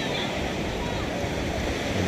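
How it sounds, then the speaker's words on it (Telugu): Sea waves at Machilipatnam beach, a dense, steady roar of surf with wind rumble, continuous and fairly loud throughout the short stretch. "అలలు మాత్రం బాగా అనిపిస్తున్నాయి."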